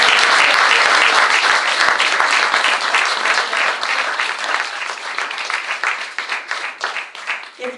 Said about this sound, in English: Let's give Bob a round of applause for his service.